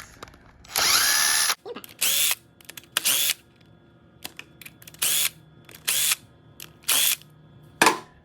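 Bursts of a power tool blast bolts loose from a Honda CB650R motorcycle engine case cover, six or seven sharp whirring rattles of a second or less each, close and loud with quiet pauses between.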